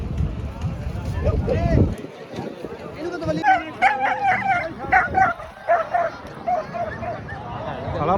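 Greyhounds at a village race in Rajewal Rohno near Khanna give quick yips and bow-wow barks with some whimpering, mixed into loud crowd chatter and an announcer's voice over a noisy outdoor background.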